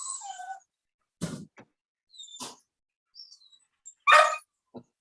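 A dog barks in a few short, sharp, separated bursts, loudest near the end, with chirpy bird-like calls between them in an otherwise quiet setting.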